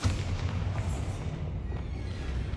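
Bombarda explosion spell cast in the video game Hogwarts Legacy, a sustained deep rumbling blast with heavy low-end boom that holds steady for a few seconds without pause.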